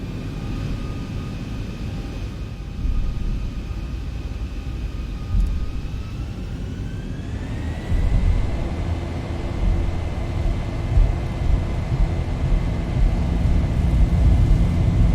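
Boeing 737-700 jet engines spooling up to takeoff power in a flight simulator, a steady loud roar with a rising whine that climbs and then holds, growing heavier and rumbling as the aircraft accelerates down the runway.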